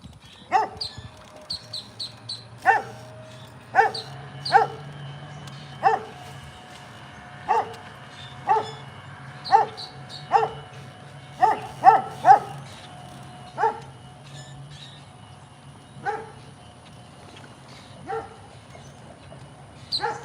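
Dogs bark in sharp, separate yaps spread over about twenty seconds, with fainter whimpers between them and a low hum of background noise underneath.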